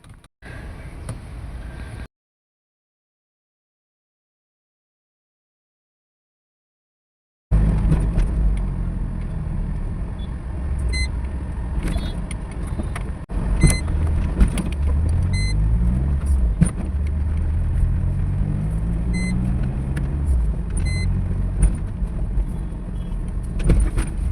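Road traffic in Ghatkopar, cars and other vehicles rumbling past nearby with rising and falling engine sweeps over a continuous low drone; the sound cuts out completely for several seconds early on.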